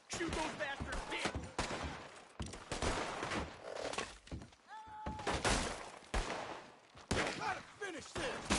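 Gunfight in the video game Red Dead Redemption 2, with scattered gunshots and impacts at irregular intervals, mixed with shouting voices, moderately loud and chaotic throughout.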